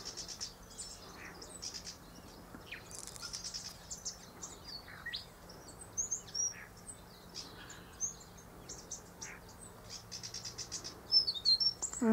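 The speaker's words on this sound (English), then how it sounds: "And the birds." Birds chirp and tweet near pink nectarine blossoms, short scattered calls at a moderate distance over a low steady outdoor hum.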